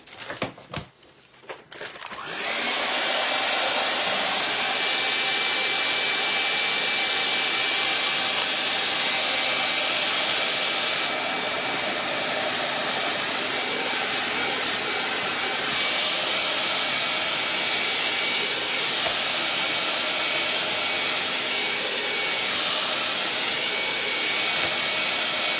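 Hair dryer blowing over a PanPastel painting on wood, starting after a brief handling noise and then roaring steadily and loudly for about twenty seconds, close to the microphone.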